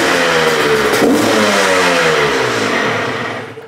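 Honda dirt bike engine with a Lectron carburetor and a new original cylinder and piston, revved hard close up: a loud rising rasp that peaks near the second mark, then falls and fades out at the end, with no talk.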